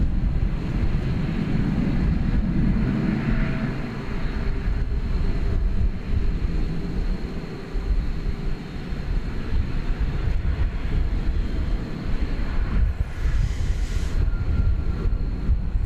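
A Frontier airliner takes off from runway 18 left at Dallas/Fort Worth airport at night, its jet engines a steady distant roar with wind rumble that holds for the whole stretch.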